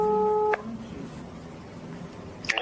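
Steady telephone tones sound briefly at the start before a recorded phone call, then give way to low line noise with a faint click near the end.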